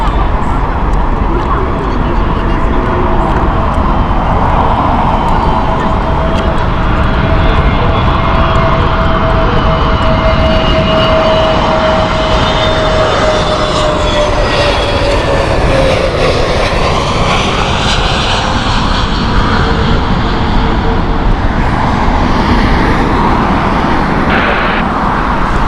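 A Middle Eastern airliner roars steadily at Heathrow Airport, its loud, continuous jet engine noise filling the scene with a slowly shifting whine as it passes, mixed with distant road traffic.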